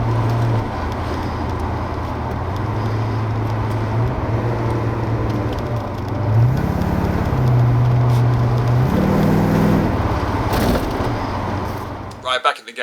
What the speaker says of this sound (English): you can hear it sort of judder